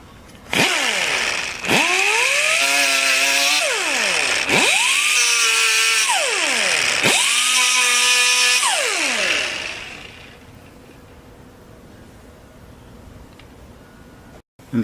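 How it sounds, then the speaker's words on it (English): An angle grinder fitted with a 36 grit disc roughs up a car body surface before filler, with loud, close, whining bursts that rise and fall in pitch as it bites and spins down, then quiet. "I'm gonna get the angle grinder with 36 grit and just rough the surface so that I know that the body filler is gonna stick to that area."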